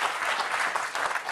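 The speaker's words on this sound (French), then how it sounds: "les applaudissements" Studio audience applauding during a live political TV broadcast: a dense, steady wash of many hands clapping, fairly loud and continuous throughout with no voices over it.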